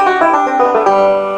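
Banjo picked in melodic style in the G position, a quick run of bright, ringing plucked notes with sustained overtones, close and clear for about a second and a half.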